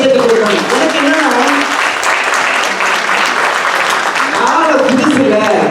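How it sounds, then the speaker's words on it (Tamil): Loud, dense applause from a large audience at a Tamil debate (pattimandram) festival greets a young speaker, with steady clapping and some voices mixed in, continuing throughout. "இன்னைக்குதான் அவங்க நிறைய கைத்தட்டு கொடுக்கணும்"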